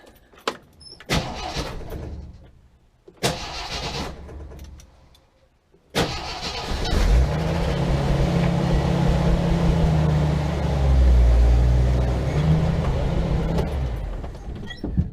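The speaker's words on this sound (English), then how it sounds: "I'm just jumping into this Jeep so that I can get it out of the way" A Jeep's door clunks and a few short mechanical knocks sound before the engine cranks and catches, then runs with a steady close rumble that rises as it pulls away.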